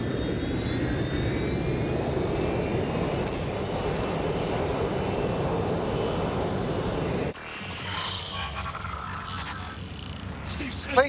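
A jet airplane in the video game Watch Dogs: Legion flies over London, giving a loud, continuous roaring drone with a rising whine that cuts abruptly to a different, quieter engine texture partway through.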